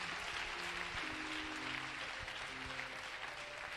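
Faint, distant applause from a congregation at a church service, a steady patter of clapping heard quietly and without pause for a few seconds.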